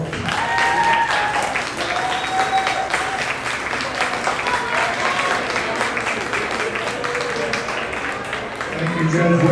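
A crowd at a market lamb show applauds steadily throughout, clapping swelling near the end, with a voice speaking over it.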